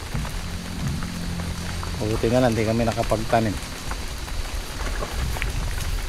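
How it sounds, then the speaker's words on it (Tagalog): Heavy rain with large drops drumming steadily in an outdoor field, a dense continuous patter, while someone talks briefly in the middle. "Ayan ang ulan."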